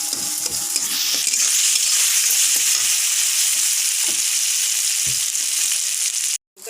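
Paneer frying in a pan with turmeric for a vegetarian potol dolma, a strong steady sizzle heard up close with a few stirring clatters, and a brief cut to silence near the end.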